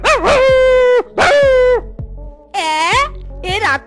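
A cartoon dog barks and howls in several loud, drawn-out, yelping calls with short pauses between them, close and clear.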